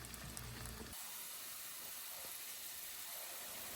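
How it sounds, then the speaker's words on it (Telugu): Diced potatoes fry in oil in a pan for a cabbage, potato and tomato curry. After a brief louder burst, a steady soft hiss and sizzle carries on alone at low level. "ఓకే, ఆలు కొంచెం ఫ్రై అయినాయి."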